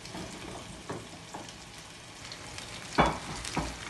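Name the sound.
skate fish fillets frying in a hot pan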